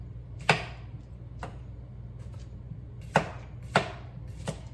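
A knife chops vegetables on a cutting board while taco salad is prepared: five sharp, separate cuts come in two bunches over a low steady background hum, fairly close and with no talking.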